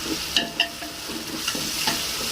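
Curd being stirred into a sizzling tomato masala for prawn biryani: a steady close frying hiss runs throughout, broken by a few sharp clinks and scrapes of the spoon against the pan.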